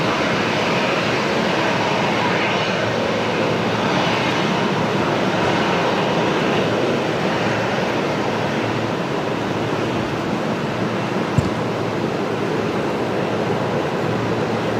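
A Velocity airliner taxis out at Brisbane Airport at night, its engines a steady broad roar that holds level and distant throughout, with one faint click near the end.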